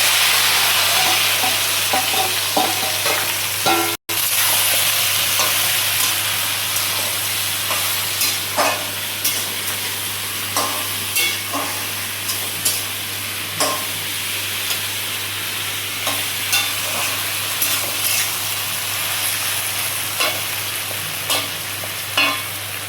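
Arum stems with prawns, black cumin and green chillies stirred and frying in a pan over a stove: a steady loud sizzle with frequent scraping stirs and light clinks, close up, with no talking.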